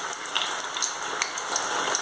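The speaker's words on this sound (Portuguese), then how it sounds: "Tô fritando no óleo." Whole tilapia and fillets frying in very hot oil, a steady dense sizzle with scattered crackles and pops throughout, close and fairly loud with no talk.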